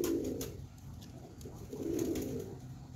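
Lotan pigeons in a loft give two soft, low cooing bursts, one at the start and one near the end, close and calm against faint background hiss.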